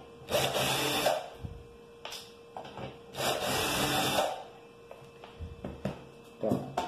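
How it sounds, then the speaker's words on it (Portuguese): Bursts of a small power screwdriver whirring as four Phillips screws are backed out of an ATX power supply casing, short buzzing runs separated by pauses and light clicks, close and fairly quiet. "primeiro vai precisar soltar os quatro parafusos Phillips, né? Eu vou soltar aqui"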